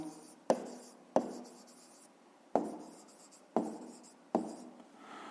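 Pen strokes on paper as numbers are written by hand for a fifth-grade maths exercise; five separate sharp scratchy bursts, each tapering off, close and quiet with no talking.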